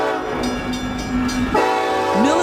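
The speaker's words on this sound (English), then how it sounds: "the battle train. It carries tanks, troops, and gear, like a moving army base on rails" A military train rolls along with a steady rumble as its horn sounds a sustained tone, then drops and bends in pitch near the end, loud and fairly close with no voices.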